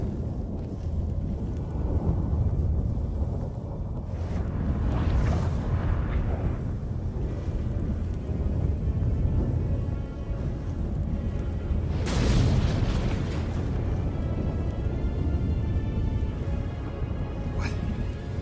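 A storm breaking out in The Witcher 3, with a heavy, rumbling roar of wind and thunder-like booms that swells around the middle and stays loud throughout, no talking over it.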